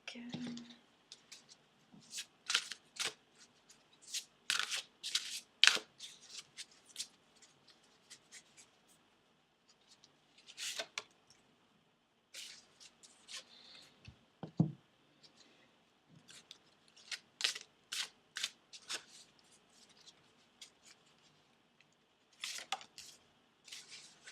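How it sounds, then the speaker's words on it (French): Tarot cards shuffled and drawn by hand, close and quiet: soft papery flicks, slaps and taps in irregular bursts separated by short pauses, with an occasional low thump. "j'ai envie de tirer encore des cartes supplémentaires pour vous"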